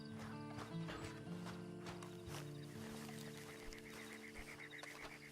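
Horse hooves clip-clop in Red Dead Redemption 2 as a steady stream of soft beats under sustained tonal game music and ambience, with no talk.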